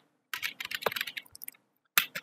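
Bursts of quick typing on a computer keyboard while writing code, close and crisp clicking keystrokes in a fast run, a short pause, then a few more keys pressed at the end.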